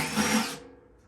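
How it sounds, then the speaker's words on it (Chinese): A power drill backs out screws from a furnace blower motor, a short whirring burst that fades after about half a second, close and alone. "我们就可以用这个钻把它这4个螺丝给拆下来"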